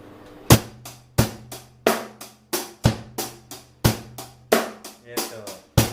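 A close drum kit plays a 16-beat groove with an extra lead-in hit added at the front: crisp snare and cymbal strikes over low kick thumps, steady and evenly paced, with no voices.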